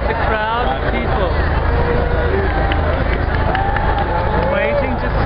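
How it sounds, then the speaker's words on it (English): A large crowd of people gathered outdoors in New York, waiting to see a performer, keeps up a steady, dense babble of chatter and bustle throughout, with no single voice standing out. "is the crowd of people"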